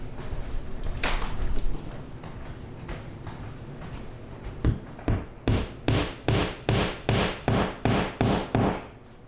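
An anchor bolt is hammered into a wall to mount an oil lamp: quieter handling and rustling at first, then about ten sharp, evenly spaced strikes ring out up close.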